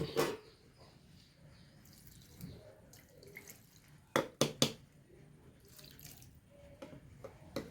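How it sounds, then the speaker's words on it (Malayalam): Water is poured into a clay pan of jackfruit seed and amaranth curry, a few quiet splashes clustered midway through a mostly hushed kitchen, with faint clinks around them. "കുറച്ച് വെള്ളം ഒഴിക്കാം"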